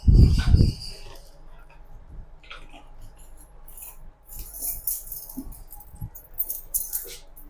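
A bunch of keys jangling close by, a brief loud rattle at the start followed by scattered small clinks, taps and rustles as they are handled indoors.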